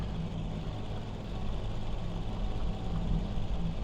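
Tractor engine in Farming Simulator 22 pulling uphill under throttle, a steady low rumbling drone that holds constant and swells slightly toward the end, with no voices.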